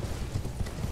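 Horse hooves galloping in Elden Ring on PS4, a rapid, steady clip-clop of heavy footfalls over a loud rushing background, close and continuous.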